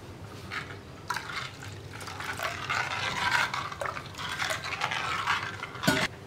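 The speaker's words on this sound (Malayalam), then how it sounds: "കുറച്ചുകൂടി വെള്ളം ചേർക്കാം." Water pours into a pot of Kerala-style anchovy and raw mango curry, making a soft, close splashing trickle in uneven bursts with faint clinks.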